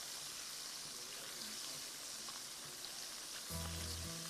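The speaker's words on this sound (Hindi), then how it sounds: "अच्छा फ्राई कीजिए।" Chicken wings for a hot and spicy recipe fry in hot oil, giving a steady, even sizzle that stays continuous throughout, with a brief low tonal sound entering near the end.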